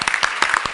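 Applause from an audience at a tech trends panel event, a brief burst of clapping with uneven, irregular hand claps filling the short moment.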